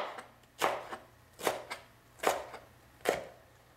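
Knife chopping a bell pepper on a cutting board in a home kitchen: four crisp, evenly spaced cuts, each a sharp knock with a softer follow-up tap, close and clear against a quiet background.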